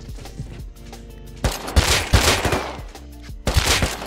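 Gunfire in the survival game Rust crackles in rapid bursts, loud and close, with short pauses between volleys.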